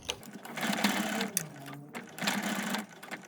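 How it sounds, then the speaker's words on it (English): A sewing machine fitted with a zip foot sewing piping, running in two close, steady whirring bursts separated by a brief pause. "I just need to sew my way down here"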